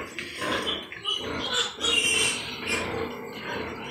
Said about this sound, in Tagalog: ang ating quality pig. Yan ang mga quality nating Mama Pig.